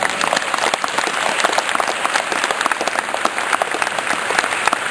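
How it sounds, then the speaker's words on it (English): An audience at a November 2011 Ride Don't Hide speaking event applauds throughout, producing a steady, dense patter of many hands clapping with no voices above it. "Here's a big clap to Dean Broughton."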